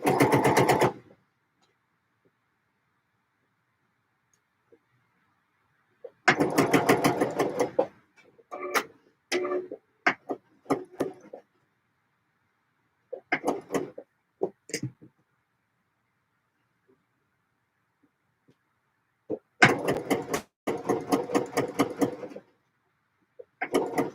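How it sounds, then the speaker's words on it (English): A sewing machine stitches skirts in several rapid, rattling bursts of varying length, separated by long quiet pauses, close and clear. "Let's get this last little bit of sewing done."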